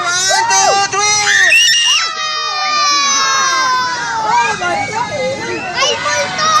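Many children scream together in a pedestrian tunnel on a field trip to a children's road safety park, a loud, sustained chorus of overlapping shrieks echoing close by, with shouting voices mixed in.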